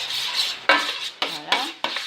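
A spoon stirring sauce in a dish, giving four sharp clinks of metal against the container, each followed by a short scraping swirl, close and clear with no talk.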